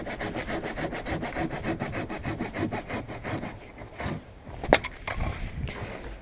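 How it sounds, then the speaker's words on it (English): A compact hand saw cutting wood for firewood on the trail, with rapid rhythmic rasping strokes close by that slow near the end, followed by a few knocks and a sharp crack. "it makes much more sense to cut it with a handsaw"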